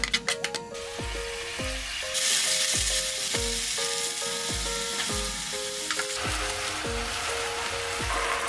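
Teriyaki chicken thigh simmering in a pan with mirin, soy sauce, sake and sugar, giving a steady close sizzle and bubbling throughout, with a series of regular clinks and taps from a utensil against the pan.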